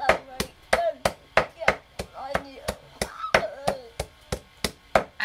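A knife mincing shallots on a chopping board for a salted shallot dish, sharp regular thwacks about every half second, close and loud, with a voice murmuring between the strokes.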